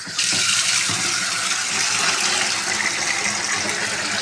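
Water pours steadily into a cooking pot holding masala, a dense, continuous rushing splash that runs loud and unbroken for several seconds.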